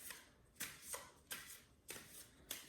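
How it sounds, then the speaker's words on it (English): A deck of tarot cards is shuffled by hand in short, crisp riffling bursts, about five quick rustles spaced under a second apart, close and quiet with no talk. "sometimes you don't have to shuffle the cards in a deck like this"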